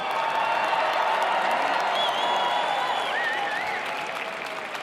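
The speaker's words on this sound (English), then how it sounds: "join me in a round of applause for our military families" Crowd at the Commander-in-Chief Ball applauding military families, steady dense clapping with a few whistles and faint cheers, tapering slightly toward the end.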